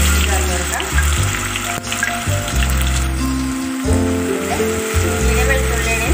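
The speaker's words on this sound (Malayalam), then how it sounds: "ഇഞ്ചിയുടെ വെളുത്തുള്ളിയുടെയും പച്ചമുളക് മാർന്ന് വരെ നന്നായി വഴറ്റി കൊടുക്കാം." Ginger, garlic and green chilli paste sautés with curry leaves in a pan for quail egg masala, making a steady close sizzle and crackle, while a voice talks over it and tonal background sound runs alongside.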